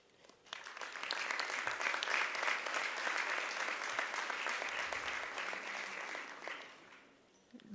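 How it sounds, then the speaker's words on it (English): A graduation audience applauds graduates' families at a Grade 12 ceremony, steady sustained clapping from a large crowd, rising fast and holding even before tapering off near the end. "Graduates, please join me in a round of applause to thank your family for all that they have done"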